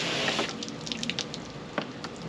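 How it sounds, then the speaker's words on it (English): Water rinsing over a fish fillet table during tilefish cleaning, a steady splashing and running stream from a hose or tap with a few louder drips and splats, close and continuous. "I always pick my fillet up, rinse the table."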